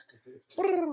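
A voices a short imitation of a bird call, a soft cooing, dove-like tone that slides gently downward after a few quiet murmured sounds, brief and fairly faint.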